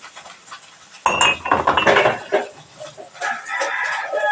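Clinking glass and dishware at a sink as a drinking glass is washed, with scattered taps and rubbing scrapes that swell after a quiet start, and faint clucking chickens somewhere in the background.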